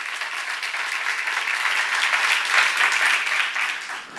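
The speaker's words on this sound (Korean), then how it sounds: "박수하세요" A congregation at a church seminar breaks into sustained, loud applause, a thick continuous wash of many clapping hands that swells slightly in the middle and holds steady to the end.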